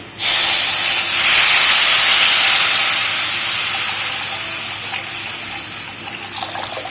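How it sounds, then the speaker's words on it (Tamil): About two cups of water are poured into a hot pan for a salna curry, bursting into a loud sizzling hiss that slowly fades over several seconds. "ஒரு 2 கப் அளவுக்கு நல்லா தண்ணி ஊற்றிக்கோங்க"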